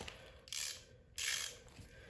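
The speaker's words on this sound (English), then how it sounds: "So I'm just going to grab a ratchet" A hand ratchet clicks in two short bursts of pawl ratcheting as it loosens the slide shoe bolts on a Troy-Bilt snow blower, close and fairly quiet, with a pause between strokes.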